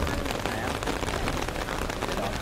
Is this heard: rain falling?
yes